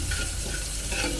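Crushed spices dropped into hot oil give a dense, steady sizzle with some stirring, close and continuous for a brief moment.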